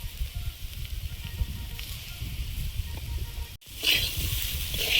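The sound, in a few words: bitter gourd leaves frying with potatoes in pan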